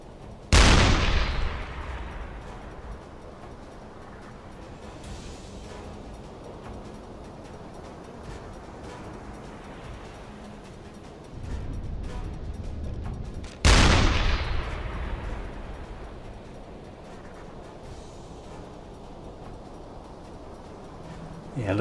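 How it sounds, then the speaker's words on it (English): Two heavy cannon blasts from a video-game submarine deck gun, roughly thirteen seconds apart, each a booming crack with a long rumbling decay, separated by low background noise. "Pretty sure the fire from our cannon here would do quite a lot of damage at this range."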